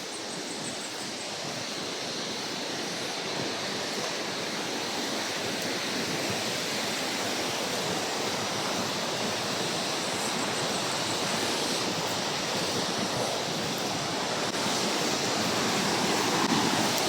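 A deep creek rushes and flows in a steady, dense wash of water that holds level throughout, with no speech over it.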